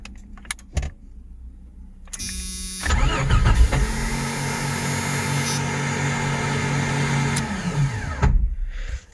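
A 1989 Jeep XJ with a suspected starter solenoid fault is cranked after a few clicks and fires quickly, then settles into a loud, steady idle for several seconds before shutting off abruptly.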